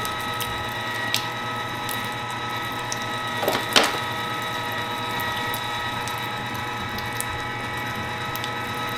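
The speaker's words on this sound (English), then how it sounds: "Get this ground up, and this grinder should honestly do this in no time" Sausage meat for homemade Italian sausage runs through a meat grinder that keeps up a steady mechanical hum and whir, with a few brief clicks and clunks rising over it near the middle. There is no talking.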